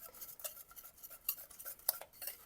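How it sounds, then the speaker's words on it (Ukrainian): A utensil stirring honey into cake batter in a bowl for a Spartak honey cake, making light irregular metallic clinks and scrapes against the dish, close but quiet, with no talking. "Перемішую."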